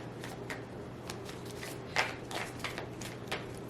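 Playing cards are shuffled, a run of quick riffling flutters and soft snaps close up, with no talking.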